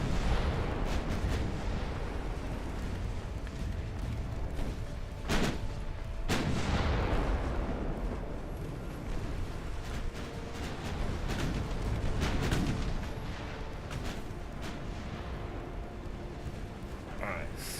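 Naval artillery fires during a warship battle in the game Ultimate Admiral Dreadnoughts: heavy gun booms rise above a constant roaring rumble, with a few sharper blasts in the middle, while someone talks over it.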